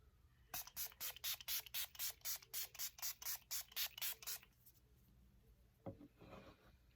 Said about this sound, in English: I'm using the Make It Last setting spray